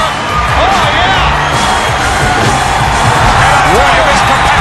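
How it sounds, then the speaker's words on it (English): Roaring arena crowd in a WWE No Mercy wrestling video game match, steady loud cheering and whooping throughout with a few rising shouts. "this capacity crowd is going crazy for these guys. Many are standing and cheering."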